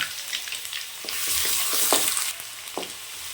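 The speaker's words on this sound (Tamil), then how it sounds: "கடுகு, உளுத்தம் பருப்பு, கருவேப்பிலை சேர்த்துக்கலாம். இஞ்சி பூண்டு சேர்த்துக்கலாம்." Mustard seeds, urad dal, curry leaves and ginger-garlic frying in oil for mutton curry, a close, bright crackling sizzle with a few stirring scrapes, alone without talk.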